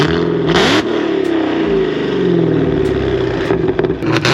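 A 1,000-horsepower Dodge Challenger Hellcat with full bolt-on modifications revs hard and pulls away, its loud engine note rising and shifting in pitch, heard close up from inside the car.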